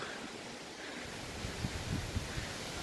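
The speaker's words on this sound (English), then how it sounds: "It's very windy" Steady broadband wind roar with low gusty buffeting, like wind hitting a microphone outdoors, continuous throughout with slight surges toward the end.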